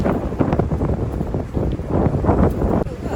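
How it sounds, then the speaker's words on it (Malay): Strong wind roars across a seaside campsite by a sea fort, buffeting the microphone in steady loud gusts throughout, with no voices. "tengok-tengok angin makin kencang"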